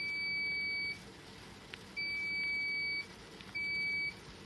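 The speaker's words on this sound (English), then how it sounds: "when I take it all the way to the end, the beep is much longer" A small buzzer on an embedded-systems RC vehicle project emits three steady electronic beeps, each about a second long with short gaps, faint against a quiet background hiss.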